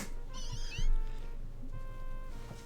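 A cat Pokémon in the Pokémon Legends Z-A video game gives two clear, high, wavering meows a second apart, close and fairly quiet, over soft game background sound.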